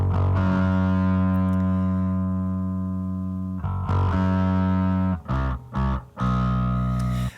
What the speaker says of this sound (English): Here's the bass by itself. Already pretty crunchy, but I have added this distortion